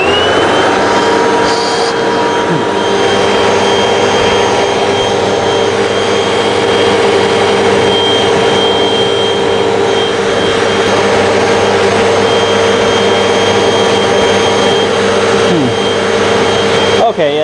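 Hoover WindTunnel T Series Pet Rewind bagless upright vacuum cleaner running with suction, a steady loud whine and motor roar that holds unbroken throughout, with brief voices at the start and end.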